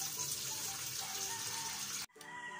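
Tap water runs steadily into a pot to be boiled for cooking mung beans, close and fairly loud, then stops suddenly near the end, leaving a fainter trickle.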